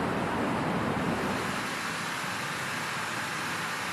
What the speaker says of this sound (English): We follow the sound of water to find another Javanese natural wonder.